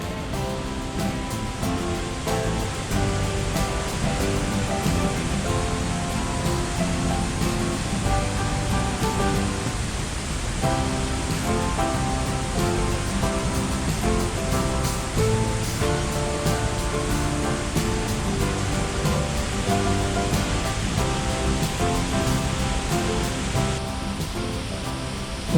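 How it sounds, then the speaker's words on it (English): Thoseghar waterfall pours and splashes steadily, a dense roar of falling water heard up close, loud and unbroken with no voices. "you can stand so close to this magnificent fall and even enjoy the splashing water droplets"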